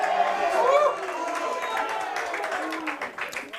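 A rowdy crowd at a high school baseball game between the San Angelo Lake View Chiefs and Big Spring Steers cheers and chatters steadily throughout, with a voice rising briefly near the start.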